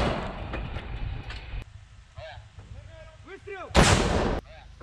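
A military mortar on a battlefield fires amid loud booms and a sharp blast near the end, with sustained rumbling, metallic clanks and someone shouting commands over the noise.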